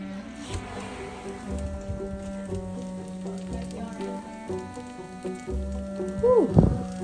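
Bacon frying in a pan for a homemade soup gives a steady, quiet sizzle and crackle over a low electrical hum, with a short voiced exhale near the end.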